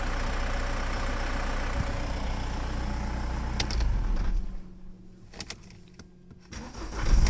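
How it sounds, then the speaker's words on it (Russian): A diesel Mercedes W245 2.0 CDI with a knock at idle after warm-up: the engine runs steadily nearby, cuts down to a quieter tail with a few clicks, then surges back as it fires up again at the end. "Опять завожу."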